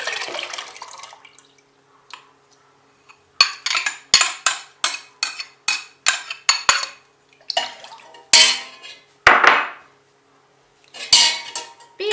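Spoon stirring yogurt starter into milk in a pot, a series of loud, close metallic scrapes and clinks in an uneven rhythm with brief pauses, no talking.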